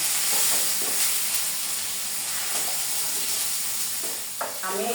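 Chopped tomatoes dropped into spices frying in a pan, a steady sizzle and hiss with a few scraping stirs and a louder burst of sizzling near the end.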